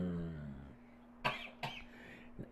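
Two or three short, quiet coughs from a person during a live stock-market talk stream, spaced apart over faint background hum.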